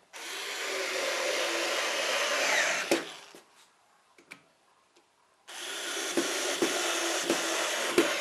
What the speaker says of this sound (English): that was a lot of work putting in all those screws